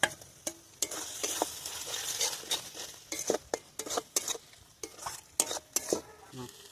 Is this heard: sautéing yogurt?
yes